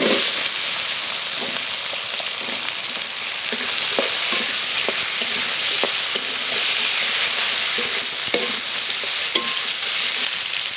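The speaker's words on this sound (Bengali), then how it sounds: "এবার এখানে যে আলু কেটে রেখেছি আলুগুলো একসঙ্গে ভেজে নেব" Cut potatoes fry in hot oil in a pan in a village kitchen, with a loud, steady, close sizzle. Occasional small clinks and pops come through over the continuous hiss.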